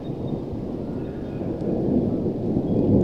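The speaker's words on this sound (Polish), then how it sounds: "Idzie burza." Low thunder from an approaching storm rolls in the distance while walking outdoors in Australia, a deep continuous rumble swelling slightly louder toward the end, with light wind.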